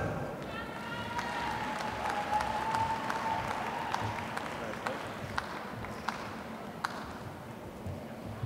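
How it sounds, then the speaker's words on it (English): Sustained applause from a large arena crowd at a high school graduation for the class of 2020, a steady dense wash of clapping and cheering with a raised voice or two, continuous throughout. "let's hear another round of applause for the class of 2020."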